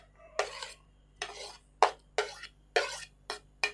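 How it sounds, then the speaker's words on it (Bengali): Chopped cucumber, tomato and green chilli being mixed for papri chaat, about seven separate scraping, clinking stirs of a utensil in a bowl, close and distinct, with short quiet gaps between strokes. "ভালো করে মিশিয়ে নেব।"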